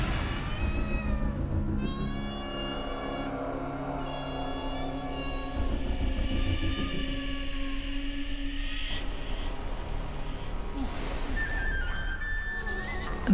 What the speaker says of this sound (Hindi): मेरी बिल्ली को भूख लगी है।